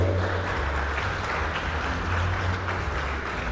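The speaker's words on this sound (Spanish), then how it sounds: "Un fuerte aplauso para él." An audience applauds at a National Indigenous Languages Day event. Steady, dense clapping from a crowd fills the whole stretch at moderate volume, with no talking over it.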